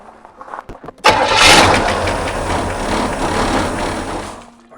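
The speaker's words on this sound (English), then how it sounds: "I think after all that work, we ought to start up and hear a run, don't you?" A 1964 Rambler car engine cranks briefly with a few clicks, then catches and settles into a steady, loud running idle close by, with no speech.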